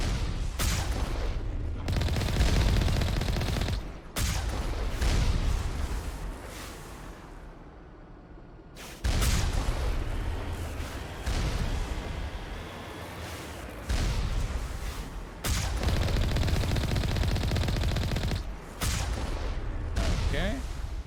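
Geth turret fire in Mass Effect, rapid bursts of gunfire coming in repeated volleys with brief pauses between them, loud and close, while a voice talks intermittently.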